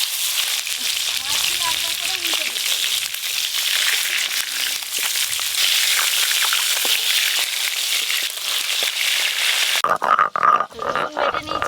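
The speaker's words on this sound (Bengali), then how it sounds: "তেল গরম হয়ে গেছে, এবার গোটা গোটা মাছ ভাজা হবে" Whole tangra fish frying in hot oil, giving a steady, loud, broadband sizzle that runs unbroken for most of the stretch, then drops away abruptly near the end into quieter scattered crackles.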